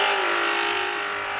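An engine roars steadily at high revs in a Vehicle Tycoon game race, likely a Bugatti, as a loud, sustained whine with no break and no talking.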